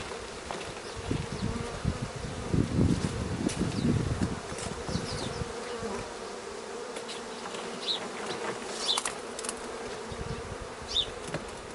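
Honeybees buzzing close by as hive frames are handled during queen introduction, a dense droning hum that swells loudly early on, then continues more thinly with individual bees passing near.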